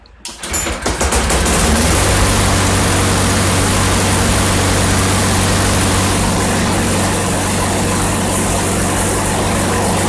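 A small Troy-Bilt TB210 lawn mower engine catches after a brief start-up and settles into a loud, steady, rattling drone that runs continuously close to the microphone.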